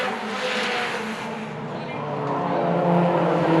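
Race cars in a circuit final roar past in a continuous, loud engine drone that swells toward the end, with commentary talk running over the top.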